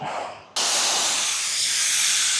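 A Porphis PRD 815 paint sprayer lays down a coat, its hiss starting abruptly after a brief quieter moment and continuing as a steady, loud, close spray.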